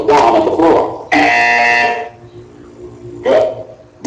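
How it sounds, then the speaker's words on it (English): Portal 2 test-chamber buzzer sounds as a loud, harsh electronic tone lasting about a second, with a shorter burst later, following a spoken voice. "When you hear the buzzer, look down at the floor."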